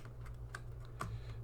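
Someone types on a computer keyboard while searching for a MySQL installer, a few quiet separate key taps spread across a second or so over a low steady hum.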